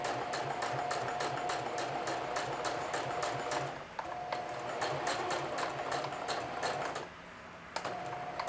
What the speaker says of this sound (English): now I can turn, and this is where I start doing the single